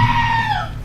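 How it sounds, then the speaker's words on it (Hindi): A goat lets out a single loud, drawn-out scream close by that falls in pitch over just under a second. "मैं इस चिल्लाने वाली बकरी को सुन रहा हूँ ना।"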